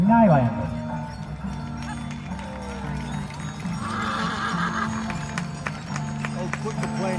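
A draft horse at a draft horse classic farm class gives a loud whinny at the start, then steady arena rumble and crowd noise continue with someone talking.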